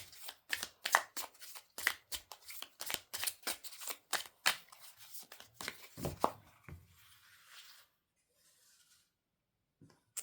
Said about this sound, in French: Donc, nous allons mettre 3 cartes. Donc, ils se mélangent bien.